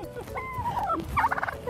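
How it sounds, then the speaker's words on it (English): A large wild turkey, nearly 25 pounds, gobbles close by in a quick, warbling burst that rises and breaks into rapid trills. "a large wild turkey spotted them, and it followed them down the driveway all the way back to their patrol cars"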